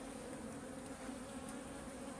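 Honeybees from a collapsing, likely queenless hive buzz in a continuous, faint drone with a few closer individual passes and no talking.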